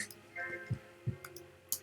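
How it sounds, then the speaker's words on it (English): A few soft, sparse keyboard taps sound close and quiet, irregularly spaced over a near-silent background. "I was typing."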